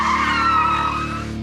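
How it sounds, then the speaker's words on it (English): Car skids through a handbrake spin on a driving-test course, a loud sustained tire squeal lasting over a second and fading slightly at the end, with no talk. "Quick swerve one way, cut hard the other, pull the handbrake."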